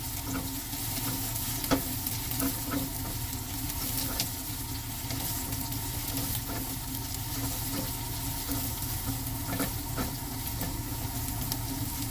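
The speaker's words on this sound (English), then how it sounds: "I love the smell of frying onion." Steady sizzling of onion frying in a pan, a constant crackling hiss with occasional small pops, close and even throughout.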